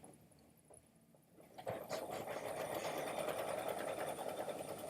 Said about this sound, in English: So right now I'm running the longer stitches of that bumblebee.